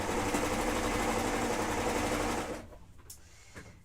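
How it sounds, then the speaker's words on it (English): A domestic sewing machine stitching a garment seam runs in a loud, steady whirring burst for about two and a half seconds, then stops, leaving faint clicks and handling noise. "So I'm going to sew up my other side,"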